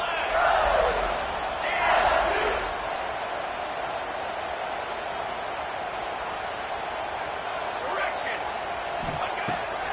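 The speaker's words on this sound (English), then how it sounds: "they are on their feet, yelling, screaming" Football crowd in a packed stadium roaring and yelling in a steady wash of noise that swells briefly at the start and then holds at a high level.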